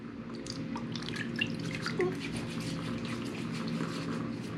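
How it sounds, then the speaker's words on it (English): Water splashes and drips close by as a face is wetted at a sink before a shave with a budget safety razor. The sound is a steady soft trickle with small splashes and runs for a few seconds. "So let's wet the face"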